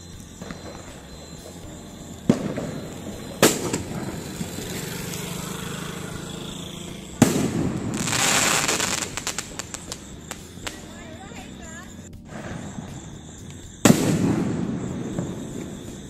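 Diwali firecrackers burst in a string of sharp, loud bangs with crackling in between, the heaviest blasts standing out above steady outdoor background noise. Some voices can be heard under the noise.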